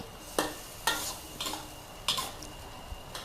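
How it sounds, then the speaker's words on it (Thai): Fried eggplant is stir-fried in a wok over high heat: a spatula knocks and scrapes against the pan in quick irregular strokes over a bright, continuous sizzle. "เดี๋ยวเราจะมาเอามะเขือยาวค่ะที่เราทอดใส่ลงไปเลยจ้า ผัดค่ะ ใช้ไฟแรงได้เลยในขั้นตอนนี้"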